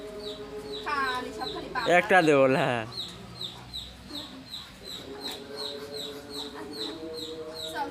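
Chickens cluck repeatedly in a yard, several birds close by with scattered calls and a few louder squawks, while a person talks over them partway through.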